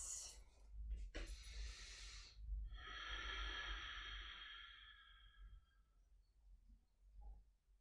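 Slow, relaxed breathing during a beginners' yoga rest, with a soft, airy inhale followed by a long, hissing exhale that fades out, close and quiet against a low room rumble.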